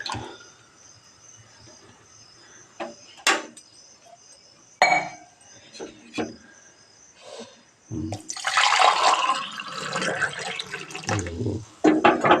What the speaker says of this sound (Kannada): ನೋಡಿ ಲೈಟಾಗಿ ಕಾದರೆ ಒಂದು ಲೋಟಕ್ಕೆ ಹಾಕ್ಬಿಟ್ಟು ನೋಡಿ ಕಾದಿದೆ ಅನಿಸುತ್ತೆ